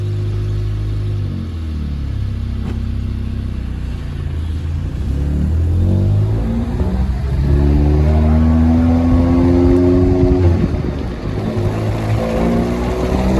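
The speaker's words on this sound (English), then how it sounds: "This car sounds so different." A car engine revs repeatedly, rising and falling in pitch with a deep rumbling tone, loud and close.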